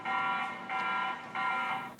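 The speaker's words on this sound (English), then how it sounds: "You can also set an alarm mode on, which will trigger an alarm sound when the camera detects any movement within its field of view." A TP-Link Tapo C200 camera sounds its motion alarm in three repeated, evenly spaced electronic siren-like tones, fairly faint and heard alone.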